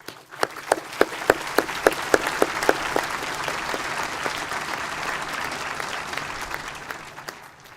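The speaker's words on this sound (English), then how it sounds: "Give them a round of applause." At a university graduation ceremony, a large audience bursts into applause, opening with a few sharp distinct claps that quickly merge into a loud, sustained roar of clapping before tapering off.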